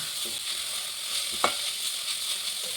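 Lentils (dal) splutter and sizzle in hot oil in a pan, a steady close frying hiss with a single sharp pop partway through.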